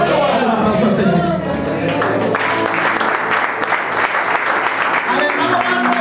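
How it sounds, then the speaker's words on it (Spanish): Applause and cheering from a church congregation fill the room, dense and loud, mixed with voices and music-like tones throughout. "Un aplauso al Señor"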